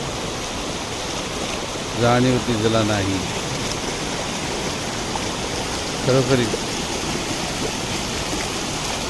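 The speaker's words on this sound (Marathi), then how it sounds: "या पाण्याच्या खळखळण्याला" Krishna river babbling and rushing in a steady, full wash of flowing water, with a voice speaking briefly twice over it.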